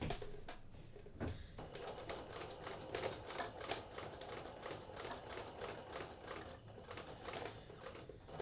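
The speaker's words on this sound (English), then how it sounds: "And I'm going to stitch, keeping my zipper even with my fabric." A sewing machine stitches a jean zipper fly in a steady, continuous run of rapid mechanical needle clatter, moderately close and with no voice over it.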